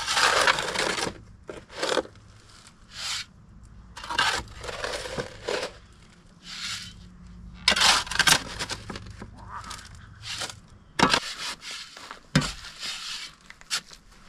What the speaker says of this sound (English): I hate that sound. It's the main reason I don't like mixing concrete.